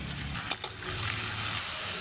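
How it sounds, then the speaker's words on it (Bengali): Spice paste of ground ginger, cumin and dried chilli with turmeric and a splash of water fries in hot oil in a pan, giving a steady hissing sizzle broken by two quick clinks near the middle. "এবার এই মশলাটা আমি খুব ভালো করে কষিয়ে নেব"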